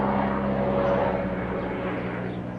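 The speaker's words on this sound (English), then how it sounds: "That's a helicopter." Helicopter flying overhead during a countryside walk near Chedworth, a steady droning engine hum with a low, continuous rotor tone, moderately loud and unbroken, with no talk.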